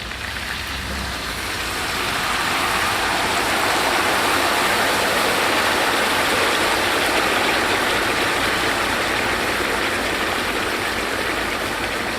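Hot water is poured into a kazan of Uzbek-style lamb kebab cooking over an outdoor fire. It makes a loud, steady rushing splash that swells after a couple of seconds and holds for the rest of the clip, with no talking.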